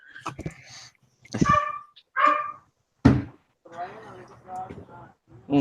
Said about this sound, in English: Apparently my dog is going insane in the other room.